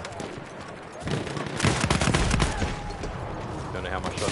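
Dense, overlapping gunfire from the World War I shooter Battlefield 1 during a Conquest match: rapid bursts and heavy reports that swell in the middle, then continue as a steady, loud battlefield clatter.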